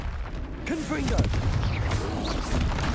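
The Confringo blasting spell cast in Hogwarts Legacy bursts out as a rumbling explosive whoosh over dense battle noise, followed by crackling debris and a loud continuous clash.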